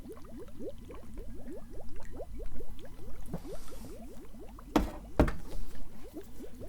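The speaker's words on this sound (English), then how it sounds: "and pour it into the cauldron." Liquid poured into a cauldron in a quiet alchemist roleplay, a steady close trickle of bubbling glugs in a fast regular rhythm with a couple of soft knocks near the end.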